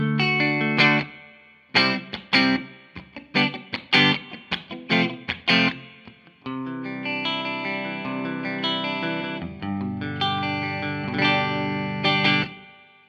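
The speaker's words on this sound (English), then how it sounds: "let's listen to the reverb" Electric guitar through a Laney LC50 tube amplifier's reverb plays choppy strummed chords, then sustained ringing notes, drenched in reverb and effects, with notes trailing off into a lingering wash.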